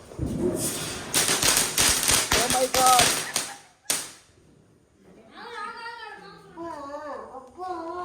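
A rapid volley of sharp Diwali firecracker pops crackles for several seconds, then a single loud bang, followed by people talking.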